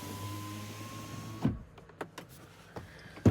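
A 2023 VW ID Buzz power window motor whirs steadily as the glass rises, then stops with a soft thud, followed by a few faint clicks and knocks inside the quiet cabin.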